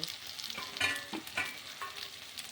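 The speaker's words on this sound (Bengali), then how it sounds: "সয়াবিন আলু তরকারি ডিম দিয়ে কষা হচ্ছে" Soybean chunks, potato and egg curry cook down in a pan, a soft sizzle broken by uneven scraping and stirring clatter, moderately close and fairly quiet.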